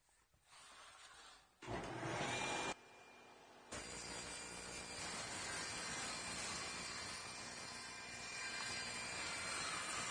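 A table saw pushes MDF through against the fence, producing a steady, faint hissing roar that starts after a short pause. A brief louder burst comes first, then the noise holds continuously to the end.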